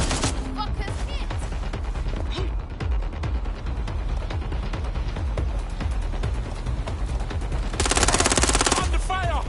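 Video game gunfire from Watch Dogs Legion: dense, loud automatic bursts rattle almost without pause, with a brighter, harsher blast near the end, while a voice speaks over the shooting.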